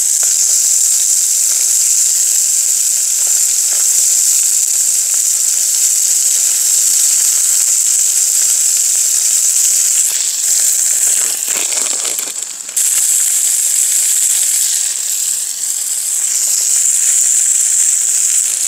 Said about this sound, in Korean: 여기 넣어야지 파 넣어야지 마늘 넣어야지.